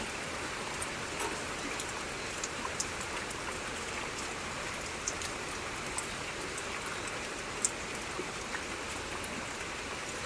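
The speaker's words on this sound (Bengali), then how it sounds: "প্রচুর জোরে বৃষ্টি হচ্ছে" Heavy rain pours steadily as an even, dense hiss with scattered drops pattering on nearby surfaces, continuous throughout with no voices.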